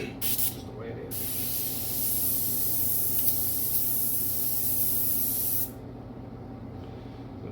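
An airbrush sprays paint in a steady close hiss that runs for several seconds, cuts off and then stops, with a brief spurt at the start.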